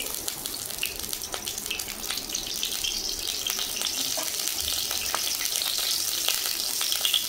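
Mustard oil heats in a wok before bitter gourd is fried, a soft steady hiss and faint crackle that holds evenly for several seconds, quiet and without talk.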